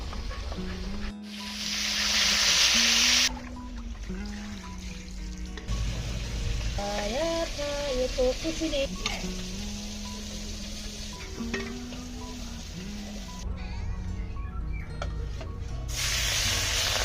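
Katla fish rubbed with salt and turmeric hits a hot wok. It bursts into a loud, hissing sizzle that eases into a steady fry, then flares again at the end, with soft music running underneath.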